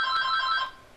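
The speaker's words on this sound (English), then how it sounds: "sorry, that's the phone." Telephone ringing with a bright electronic trill, one ringing burst that fades out toward the end, fairly close with no talk over it.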